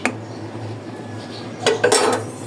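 A lid set down on a pot of fish curry made with small chapila, chanda and puti fish, giving a brief metallic clatter over a low steady kitchen hum.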